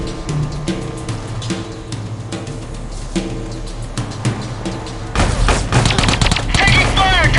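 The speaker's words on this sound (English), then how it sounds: "Taking fire! Taking fire!" Gunfire in the video game Delta Force: Black Hawk Down, a steady mix of rapid shots and bursts over game ambience and music, growing louder and denser in the final seconds.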